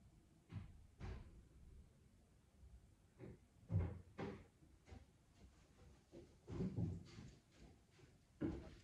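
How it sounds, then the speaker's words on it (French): A door is pulled shut indoors with a series of quiet knocks and soft thuds, faint and somewhat distant, spread irregularly over several seconds with no talk. "je dois fermer la porte"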